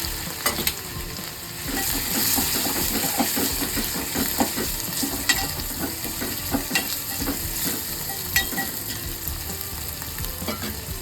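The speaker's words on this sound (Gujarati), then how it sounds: "આ બાફેલા કારેલા પેલા વઘારી નાખવાના એમને" Boiled bitter gourd pieces stir-fried in hot oil seasoned with garlic, asafoetida and turmeric; a loud, continuous close sizzle with scraping and stirring clicks throughout, and no one speaking.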